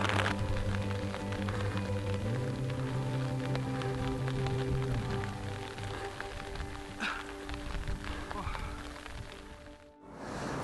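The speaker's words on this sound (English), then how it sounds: "it's just raining and it's horrible" Rain falling on a hiking trail in Taiwan's mountains, a dense, steady hiss of drops close by, with a low rumble and faint handling noise underneath.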